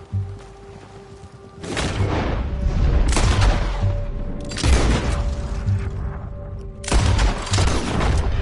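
Loud gunshots and booming blasts from the Western video game Red Dead Redemption 2, arriving in several separate heavy bursts over a steady rumbling mechanical background.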